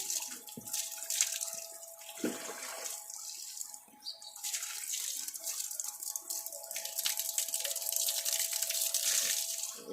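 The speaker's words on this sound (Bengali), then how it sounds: "এই গরম জলে স্নান করা ভালো" Warm water splashes and trickles in an uneven way, close by, while a small child is bathed, with a faint steady tone running underneath.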